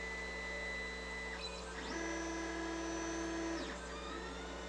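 A Creality Ender 5 Plus 3D printer starts printing after a nozzle-priming swipe, its stepper motors whining in steady pitched tones that step up and down as the moves change, over a constant low hum.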